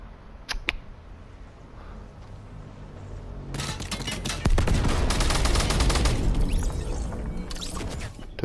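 Video game gunfire from H1Z1 or Fortnite: a couple of sharp early shots over a low game hum, then dense rapid bursts of automatic fire that turn loud and sustained through the second half.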